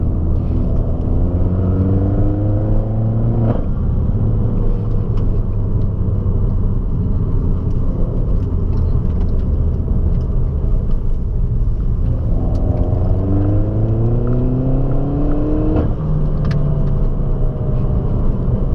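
Peugeot 208 GTI BPS with a loud exhaust driven on the road, a deep, steady engine rumble that rises through the gears in two rev climbs, with sharp cracks at the shifts and no talking.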